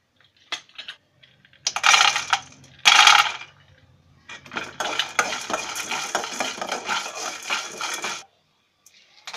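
Chana dal and peanuts are fried in a pan and stirred. Dry grains rattle and scrape against the metal in loud bursts, then a steady, brisk stirring clatters for several seconds before it stops.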